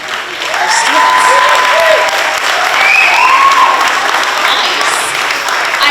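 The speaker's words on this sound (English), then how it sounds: "Let's give it another great big round of applause for our students." Concert audience at a school spring concert applauding students, a loud, dense and continuous round of clapping with a few cheers and whistles mixed in.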